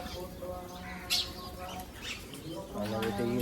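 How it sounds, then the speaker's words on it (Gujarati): Birds gather to peck at sev set out during a home puja, giving faint, scattered chirps and calls against a low, steady background murmur. "અહીંયા સેવો આપી છે તો આવ્યા છે પક્ષીઓ"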